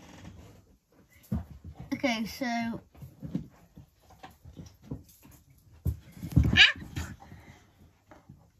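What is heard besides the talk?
dog whining, wanting to play with its toy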